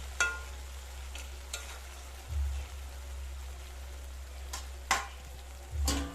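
Chalta (elephant apple) sour dish being stirred in a pan, with a low steady simmer under a few sharp scraping stirs and dull knocks spaced a couple of seconds apart, close and fairly quiet.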